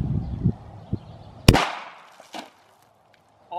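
A single loud gunshot fired into a block of styrofoam cracks sharply at close range, preceded by a few small handling knocks and followed by a fading ring, then near silence.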